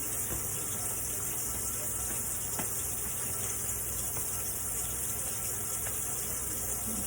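Water runs steadily from a hand-washing sink tap, a constant, moderately close broadband hiss and gush with no talk over it.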